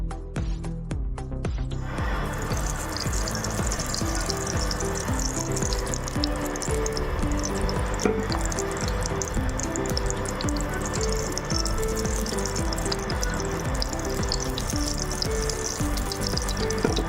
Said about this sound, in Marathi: हे कांदे आणि खोबरं आपण बारीक करून भाजूया।